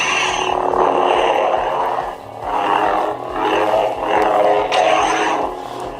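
A toy lightsaber at full volume gives a loud, close, buzzing electric hum that swells and dips in several sweeping surges over steady low pulsing, with no talking.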